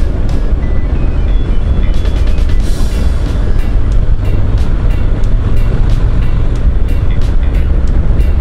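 Honda NC 750X DCT automatic-transmission motorcycle on the move over rough, grooved asphalt: loud, constant engine drone and heavy wind rush fill the whole stretch, with brief ticking textures over the roar.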